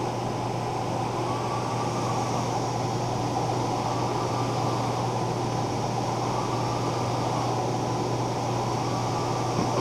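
A commercial DTF direct-to-film printer runs while printing onto film, giving a steady, loud mechanical hum and broadband whir with a low drone, continuous and without voices.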